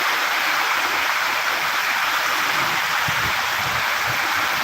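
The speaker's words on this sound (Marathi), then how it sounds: "बाहेर पाऊस खूप मस्त झालाय आहे आम्ही खिडकीतून शूटिंग काढतो पावसाची" Heavy monsoon rain pours outside a window, a dense, even wash of hiss that runs loud and unbroken from start to finish.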